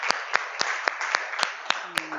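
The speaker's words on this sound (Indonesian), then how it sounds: "Tepuk tangan buat Denis dan Rikjan" A small classroom group claps for Denis and Rikjan in a slow, regular rhythm of about eight distinct claps, close and moderately loud.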